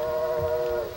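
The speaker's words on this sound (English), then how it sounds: "There you can hear the choo-choo trains of Dollywood in the background." A distant Dollywood theme park train whistle sounds in one steady, tonal blast, faint and far off over soft outdoor ambience on a golf course.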